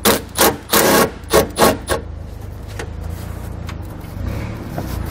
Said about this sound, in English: We're using a 10 millimeter socket to remove the bolt.